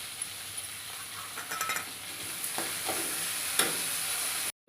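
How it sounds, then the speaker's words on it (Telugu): Turmeric and salt frying in a pan for okra chutney, a continuous close sizzle broken by several scraping stirs and light utensil clinks, with no talk, ending abruptly. "తగినంత పసుపు, రుచికి సరిపడినంత ఉప్పు వేసుకొని బాగా ఫ్రై చేసుకోవాలి"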